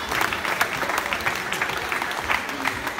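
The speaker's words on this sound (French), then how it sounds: "Merci Fabrice, mesdemoiselles de SL2, la photo souvenir sous les applaudissements du public de la salle du Cabalot." An indoor crowd at a handball club's team presentation applauds steadily, dense clapping filling a large sports hall with a lively, continuous patter.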